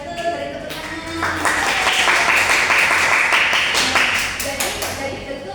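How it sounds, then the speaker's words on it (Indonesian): Classroom applause from junior high students during a lesson, a burst of clapping that swells after a second, holds steady, then tapers off near the end. "beri tepuk tangan"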